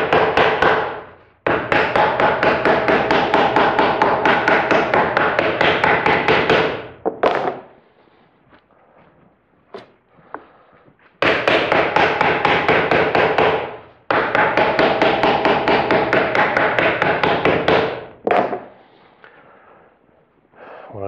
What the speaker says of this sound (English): Now I'll hammer it down.